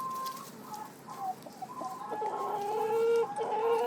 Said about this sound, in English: over here, we'll peek in at the chickens